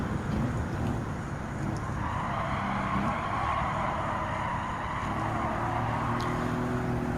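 Aston Martin DB5 '64 racing a lap at Goodwood in Gran Turismo 7 gives a continuous engine drone with steady wind and road noise, moderately loud and unbroken for the whole stretch.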